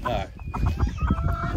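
Silkie chicken clucking in short, repeated bursts close by on a homestead, with other fowl sounds mixed in.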